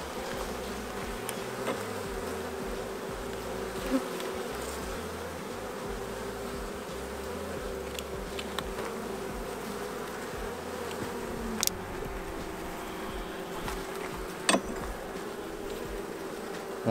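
Honey bees hum in a steady, close drone around an open hive during inspection, with occasional small clicks and knocks over the continuous buzz.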